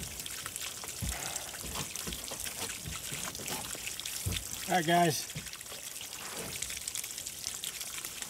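A garden hose runs water to flush a Johnson 40 HP outboard motor, giving a steady pouring and trickling wash throughout, with a brief spoken phrase and a few knocks over it.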